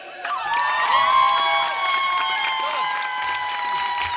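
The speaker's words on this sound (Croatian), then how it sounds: "Da vas čujem, aplauz za njega." A live TV show studio audience claps and cheers loudly for several seconds, a busy crowd noise with bright tones layered on top.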